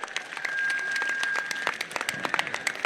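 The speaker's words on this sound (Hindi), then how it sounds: "जोरदार स्वागत, तालियों के साथ स्वागत करें।" Applause from a crowd at a public political rally in Rajasthan: dense, steady clapping fills the clip at moderate distance, with a thin whistle-like tone held over it.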